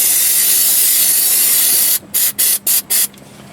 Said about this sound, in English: I'm going to give our bolts over here a little spray brake clean.